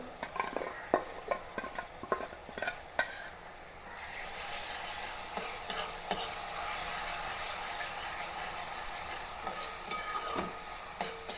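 Spice paste of soaked coriander, chilli and turmeric powders fries with onion, green chilli and ginger. It opens with several sharp scrapes and clinks of a spoon, then a continuous hiss of frying takes over.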